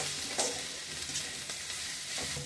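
Turmeric powder sautéing in a pan for vegetable rava kichidi, a steady close sizzle with a few brief scraping stirs, no talking.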